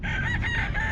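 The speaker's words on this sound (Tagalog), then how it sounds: "Pambihirang manok ka." A rooster at a pet market in Bocaue crows and clucks in one strained, continuous call, close and clear with no talking over it.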